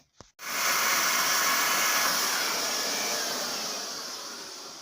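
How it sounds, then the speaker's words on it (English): Electric heat gun blowing steadily on a BSA Bantam D7 motorcycle's front wheel hub during a front-end rebuild, starting after a brief click and holding a loud, continuous airy roar that fades slightly toward the end. "I'm going to do that with a electrically powered heat gun"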